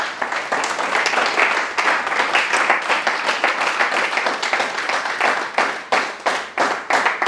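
Church congregation applauding in praise of the Lord: dense, sustained clapping from many hands, loud and steady throughout, with a few sharper individual claps standing out near the end.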